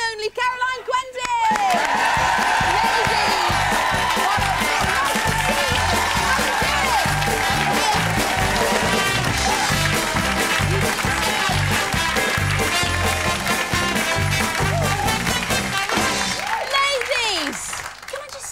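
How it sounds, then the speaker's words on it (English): A studio audience on a cooking show applauds loudly and continuously as guests enter, dense clapping and cheering that swells quickly and holds for most of the time before fading, with brief talk at the start and end. "Please applaud very loudly"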